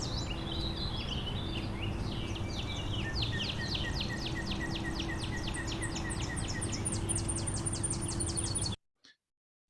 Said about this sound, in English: we got a Tennessee warbler, very high